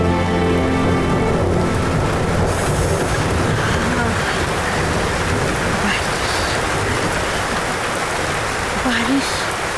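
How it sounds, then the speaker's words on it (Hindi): Heavy rain pours in a Hindi family drama film scene, a loud, steady, dense hiss that fills the whole stretch without letup, with faint voices briefly under it. "बड़ी बारिश हो रही है"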